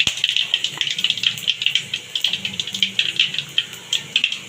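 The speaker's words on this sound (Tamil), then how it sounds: "கடுகுல பொரியுது ஃப்ரெண்ட்ஸ்." Mustard seeds splutter in hot oil with rapid, irregular popping crackles over a soft hiss, loud and close, continuing steadily throughout.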